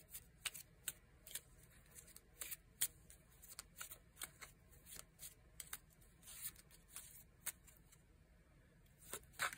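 Oracle cards shuffled by hand, a long run of soft, close riffling snaps and flicks in irregular bursts, quiet and alone with no voices.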